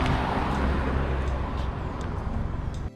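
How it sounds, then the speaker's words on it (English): Car accelerating under boost as its turbo spools up on the drive after a brake job, a steady loud engine and road roar that holds for a few seconds before cutting off abruptly. "Oh, turbo kicking in."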